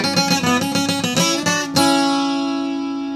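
Fast requinto guitar passage from a bolero, a quick run of bright plucked notes with rapid rhythmic attacks, ending on a sustained ringing chord that fades out, played solo and close.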